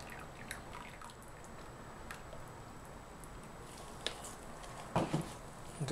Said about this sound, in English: Pour from a high.